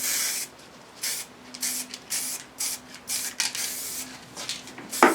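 Plasti Dip rubber coating sprayed in a wide fan in a garage, a run of loud hissing bursts of about a second each separated by short pauses, with a faint steady hum underneath.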